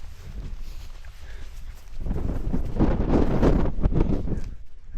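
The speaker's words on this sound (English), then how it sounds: "that wind this morning, absolutely bitter. Freezing cold when it hits you" Strong, bitterly cold wind gusts across a wild camping spot in the UK Lake District, a continuous roaring buffeting against the microphone that swells louder halfway through and keeps going.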